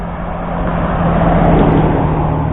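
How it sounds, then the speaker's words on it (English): Cars roll past on an outdoor road on a fine day, a steady, fairly loud broadband traffic rush that swells slightly toward the middle and holds without a break. "Cars coming out here."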